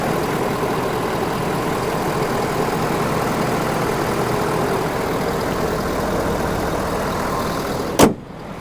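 A 2018 Ford F-250 King Ranch with the 6.7L Powerstroke diesel and stock emissions idles steadily and fairly quietly close by, giving a constant low rumble with no talk, then a brief sharp knock near the end.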